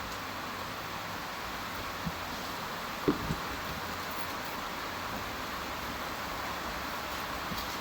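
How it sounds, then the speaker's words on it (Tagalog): Steady rain falls outside on a wet morning, a faint even hiss with a few soft knocks, heard from indoors with no talking. "Maulan guys. Sorry for the background. Maulan."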